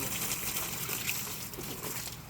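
Steady running water flows close by while duck decoys are being cleaned with a scrub brush, a continuous broad rush with no talking over it.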